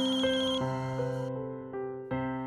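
A telephone rings during an outgoing call to a marriage bureau, producing a clear electronic ringtone melody of stepped, sustained tones that plays alone without any talking.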